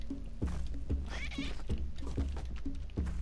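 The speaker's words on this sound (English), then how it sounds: "I hear the cat." Repeated cat meows from the video game Spelunky 2, about five short calls in a steady rhythm over a low background hum, close and clear.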